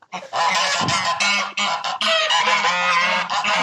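Several domestic geese honking close by on a village farmstead, loud overlapping calls in a dense continuous run with short breaks, no talk.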